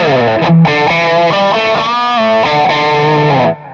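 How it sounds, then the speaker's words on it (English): A distorted electric guitar plays a sustained rock lead through a Line 6 Helix amp model with the gain switch turned up, heavy gain, notes shifting and ringing loudly with a thick, saturated tone. "The rock lead is like that amp gain switch turned up."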